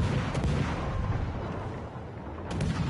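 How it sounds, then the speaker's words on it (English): Torpedo hits on a battleship in World of Warships Legends, heard as a dull, rumbling series of deep underwater explosions that fill the whole stretch with heavy booming noise and no talk. "That's two torpedoes on him."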